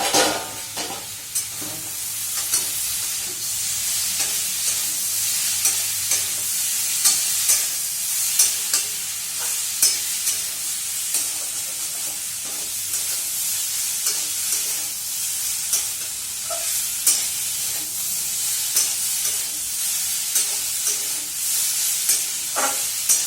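Vegetables for a chorchori fry over high heat in an uncovered pan, making a continuous loud sizzle. Frequent scraping and clattering stirs punctuate it throughout, and no one speaks.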